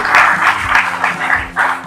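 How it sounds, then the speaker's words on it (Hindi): Crowd applause for the chief guest at a Hindi comic poetry gathering, a steady wash of clapping in rolling bursts across the whole short stretch, with no talk over it. "हमारी जो अगली पंक्ति में हमारे चीफ गेस्ट मुख्य अतिथि, इनके लिए भी तालियां हो जाए"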